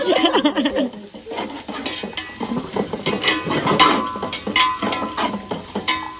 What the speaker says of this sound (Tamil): வெங்காயம் போட்டிருக்கிறேன் நல்லா வதக்கணும்